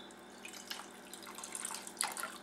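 Two-thirds of a cup of water is poured into pumpkin puree for Down East Maine pumpkin bread, a soft, faint trickling and splashing lasting a couple of seconds.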